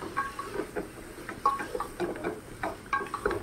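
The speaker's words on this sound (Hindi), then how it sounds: "तो इसे भी डालने के बाद अच्छी तरह से यहाँ फिर से मिक्स कर रही हूँ।" A spoon stirs a soybean biryani mixture in a pan with quick, repeated scraping and clinking strokes, faint and close, with a light sizzle underneath and no voices.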